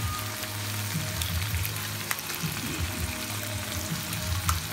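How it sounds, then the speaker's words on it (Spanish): A tortilla toasting in a pan gives off a continuous soft sizzle and crackle with a few light scrapes, close and steady throughout, with no one talking. "Pongo tortilla tostando."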